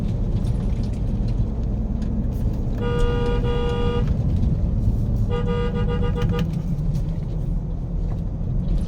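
Two long car horn blasts, each about a second, sound over a constant roar of engines and road traffic on the road from Towi to Tamainusi.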